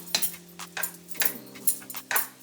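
Shrimp fried rice with spur tree pepper is stirred in a pan, with a quick series of sharp utensil scrapes and clinks against the metal over a low steady hum, close up and with no talking.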